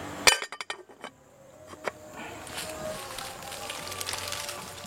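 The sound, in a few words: covering a cooking pot with its lid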